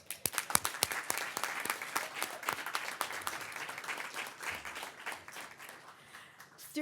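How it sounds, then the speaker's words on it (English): An audience at an arts and business awards ceremony applauds an award finalist, a steady spread of clapping with some sharper individual claps standing out, moderately distant and continuous throughout. "a round of applause for Studio"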